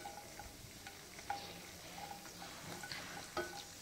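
Cashews fry in hot ghee over a low gas flame, a faint, soft sizzle with a few light clinks and stirring taps, quiet and without talking.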